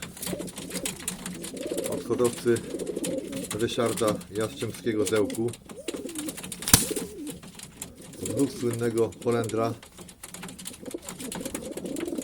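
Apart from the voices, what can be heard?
male pigeons cooing in a loft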